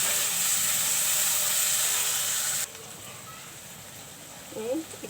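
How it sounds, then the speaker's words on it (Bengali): Tomatoes sauté in a hot pan with a loud, steady hiss that suddenly drops to a quieter simmer halfway through, and a voice briefly sounds near the end. "টমেটোগুলো একটু কষিয়ে নেব আমি।"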